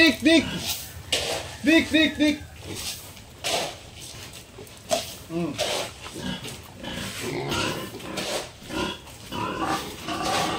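Pigs, including sows, grunt and squeal noisily at feeding time, several animals close by, with a person talking in the background.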